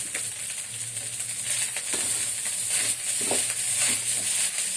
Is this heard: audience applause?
no